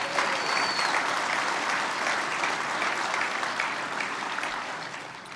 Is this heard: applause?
yes